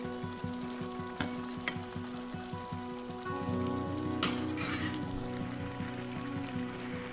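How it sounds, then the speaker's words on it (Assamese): Assamese-style eel fish curry bubbles and sizzles in a pan, a close, steady crackling hiss with scattered small pops. "ধুনীয়াকৈ উতলি আছে।"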